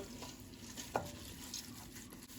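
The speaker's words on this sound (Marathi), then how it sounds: "हो बासमती रायस पयलीं सद्या आमी उदकान घालून सोक करून दवरताय भिजोवन दवरताय आनी बरें मिक्स कर" Soaked basmati rice stirred into chicken in a pot, a quiet steady sizzle with soft scraping strokes and one brief clink, faint overall.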